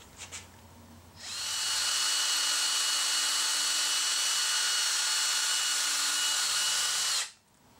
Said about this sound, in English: we're going to drill through there, and we're going to drill into the cavity